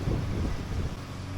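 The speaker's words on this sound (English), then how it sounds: "strong wind." Strong gusting wind on a windy day in a yard buffets the microphone with a loud, continuous low rumble and roar, with no voices.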